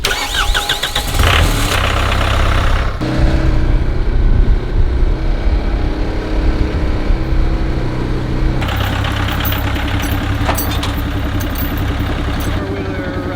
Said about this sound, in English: You want to get on the four-wheeler and drive it over?